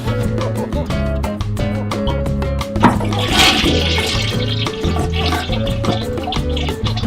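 A toilet flush rushes up partway through, riding over a dense, steady bed of background music with a strong rhythmic beat.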